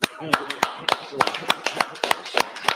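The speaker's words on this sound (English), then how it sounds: "Clap it up." Rhythmic hand claps ring out in a steady beat at the closing of a Feast of Tabernacles gathering, a dozen or so sharp smacks close by, with a voice briefly audible between them.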